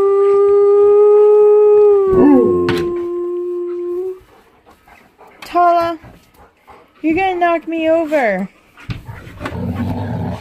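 An Alaskan Malamute lets out long, loud howls and yodelling vocalizations up close during rough play, with gaps of panting and scuffling between them. A person talks briefly in the middle.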